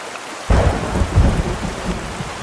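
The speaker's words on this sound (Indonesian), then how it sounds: "Namun sayang, petir menyambar dan membuat Nirmala kaget dan melepas pegangannya." Thunder cracks and booms over steady rain in a stormy scene from the video game A Space For The Unbound, a sudden loud strike followed by rolling rumble and continuous rainfall.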